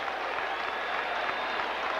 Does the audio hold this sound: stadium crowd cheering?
yes